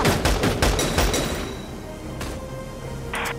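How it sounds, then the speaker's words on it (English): Enemy soldiers in Valkyria Chronicles 4 open fire, with rapid bursts of gunfire up front fading into a rumbling, echoing tail and a later crack. "They're firing on us!"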